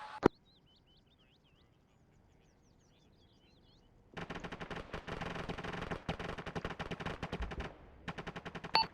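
Gunfire in a military video game during platoon training: a single sharp shot, then a quiet stretch with faint birdsong, then sustained rapid bursts of automatic fire with brief pauses, loud and close.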